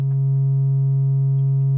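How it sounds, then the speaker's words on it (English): A Pittsburgh Modular Double Helix eurorack oscillator puts out a steady, pure sine tone, loud and unchanging for the whole span, with only faint tiny blips above it and no talk. "Now the sine wave is the default"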